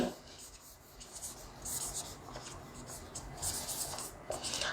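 Pen or chalk scratching steadily as notes are written out during a maths lesson on complex numbers, soft continuous strokes with faint rubbing and a voice talking quietly in the background.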